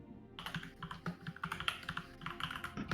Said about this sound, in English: your keyboard is very loud, sir